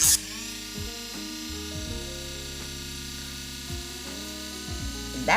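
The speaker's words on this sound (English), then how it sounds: "That's an Amazon drill bit, okay? It cuts through like paper." A coarse drill bit bought from Amazon bores through material with a steady whining drill motor that dips and surges in pitch as it cuts, loud and close with no speech.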